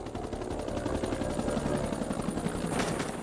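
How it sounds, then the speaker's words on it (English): Two helicopters fly close overhead in a Vietnam War combat setting, their rotor blades chopping in a loud, steady rapid beat with continuous turbine whine throughout. "Two helicopters raced to Hamilton's position."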